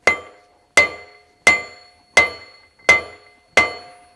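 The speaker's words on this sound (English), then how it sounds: "pound this gear on just enough so the bearing will start" A hammer strikes a steel gear onto the final drive shaft of a Tilmor 520 tractor six times at an even, unhurried pace, each blow a sharp, close metallic ring that decays quickly.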